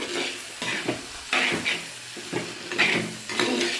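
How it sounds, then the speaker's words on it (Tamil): Bitter gourd sautéing in a pan with curry leaves, bursts of sizzling and spatula scraping that come and go in short strokes as the pieces are turned, close and fairly loud. "இங்கே பாருங்க நல்லா வதங்குது"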